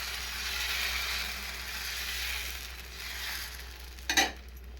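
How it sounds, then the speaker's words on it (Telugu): Wheat flour batter frying lightly on a flat pan, a faint continuous sizzle close by that ends in one brief clatter of a utensil. "ఎక్కువ ఫ్రై లేకుండా లైట్గా ఫ్రై చేసుకోవాలా"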